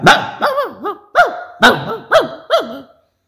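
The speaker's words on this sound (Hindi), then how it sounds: "नीचे से भोंकू ने शोर मचा" A dog barks about seven times in a quick, irregular series, loud and close, with no other sounds around it.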